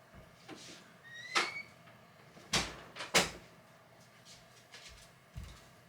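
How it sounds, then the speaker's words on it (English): A door in a home is pulled shut, with a few sharp knocks and thuds of wood and latch spaced over several seconds, fairly close in a quiet room. "I'm going to go close the door."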